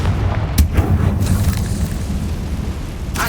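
Confringo fire spell blasts in Hogwarts Legacy, a loud booming explosion at the start followed by a rumbling, crackling roar that persists, with a second burst near the end.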